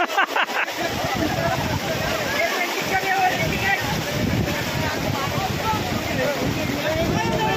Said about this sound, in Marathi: बेटमोगरा मन्याड नदी पुलावून पाणी जात आहे